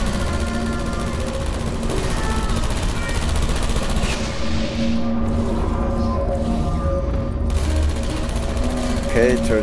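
A turret in the game Portal 2 fires a rapid, sustained mechanical rattle that runs on throughout, with someone talking over it the whole time.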